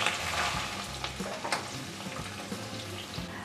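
Ginger garlic paste sautés in hot oil with a dense, close sizzle, broken by scraping stirs of a spatula against the pan throughout.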